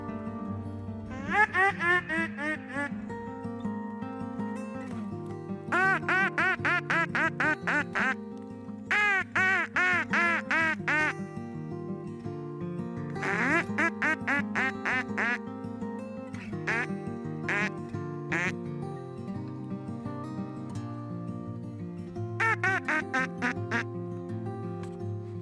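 A duck call imitates ducks during a duck-hunting demonstration in Kansas, with loud rapid quacking bursts in repeated runs and short pauses between series.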